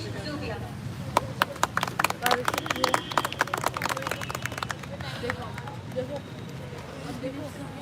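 Members of a literary society at a live poetry event give a sparse round of applause to welcome a participant. Scattered claps build and then fade under a murmur of voices.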